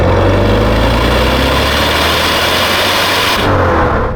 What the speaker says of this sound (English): this is a Maserati 3200 GT